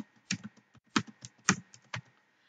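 Keys on a computer keyboard are struck while typing HTML code for a login page, producing a close, irregular run of crisp clicks in small bursts with short pauses between.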